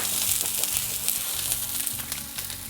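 Sliced white onion fries in a pan over medium-low heat, giving a steady close sizzle with crackling pops throughout and no voices.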